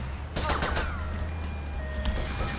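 Rapid bursts of gunfire in GTA Vice City crackle over a steady low rumble, with sharp shots clustering early and scattered pops continuing through the rest.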